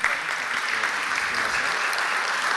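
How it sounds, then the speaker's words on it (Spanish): An audience at a healthy-bakery certification ceremony claps for a certificate recipient, a dense, even round of applause that carries on steadily without a break. "el aplauso para él"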